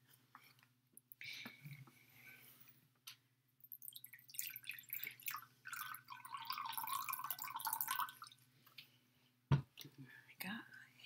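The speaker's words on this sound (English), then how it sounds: "I'm gonna pour that into the third glass, slowly." A half cup of water is slowly poured into a glass in a classroom, a soft trickling splash that swells for a few seconds amid quiet, whispery speech and small drips.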